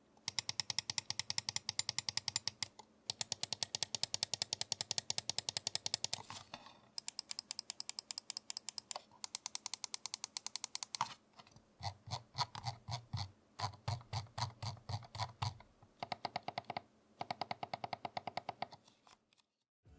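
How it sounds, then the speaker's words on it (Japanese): Main mechanical switch buttons of a Logicool G Pro X Superlight wireless gaming mouse clicking in rapid repeated bursts, crisp sharp clicks close up with short pauses between runs, no talking. "ではここでマウスボタンのクリック音を聞いてみましょう。"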